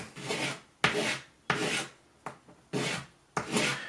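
Hand sanding of a 3D-printed OTF hidden blade part, heard up close as six rhythmic rasping strokes in steady sweeping passes, with short pauses between them and no talking.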